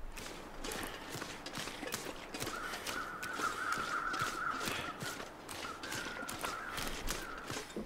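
Crows caw repeatedly at a distance in a snowy outdoor scene in the survival video game The Long Dark, over faint footsteps and ambient wind.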